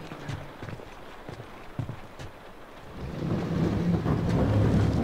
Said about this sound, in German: Guck mal, es regnet.